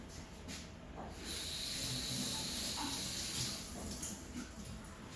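Tap water running over potato pieces being washed, a steady hissing stream that swells after the first second with faint clunks of the chunks in between, fairly quiet and with no talk.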